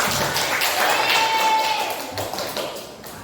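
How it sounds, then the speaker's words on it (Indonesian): Classroom applause for a student group's presentation, a short burst of clapping with a faint tone ringing through it, tapering off toward the end. "Tepuk tangan yang meriah untuk presentasi dari kelompok 3."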